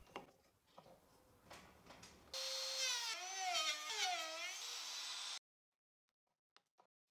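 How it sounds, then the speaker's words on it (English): A milling cutter working reclaimed wood, lowered a few millimeters per pass, whines loudly and steadily for about three seconds with a wavering pitch, framed by softer scraping and clicking before and after. "the cut should be made gradually, lowering the milling cutter a few millimeters per pass"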